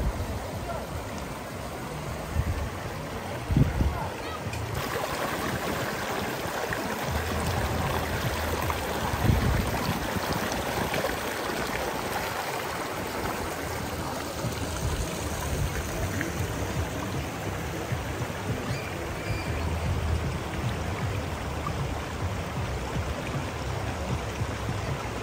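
Clear river water flows steadily along the Azusa River in California, a soft continuous rushing and trickling heard close by with no talk over it.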